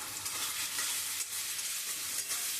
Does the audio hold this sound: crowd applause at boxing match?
no